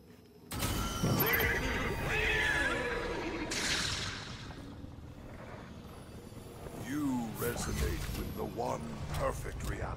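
Horse neighing and whinnying in the video game Destiny 2, several loud whinnies with snorts and hoof clatter, mixed with mechanical game sounds and spoken narration.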